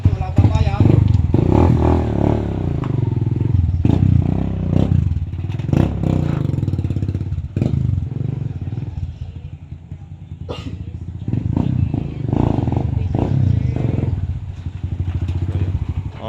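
A Barako 2 motorcycle engine being tested, a loud nearby putter with repeated revs and clattering, mechanical rattles, and a voice speaking over it at times.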